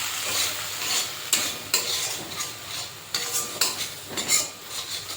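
Mustard paste, ground with onion, green chilli and salt, stirred as it fries in oil in a pan, with repeated scraping strokes over a steady close sizzle and no talking.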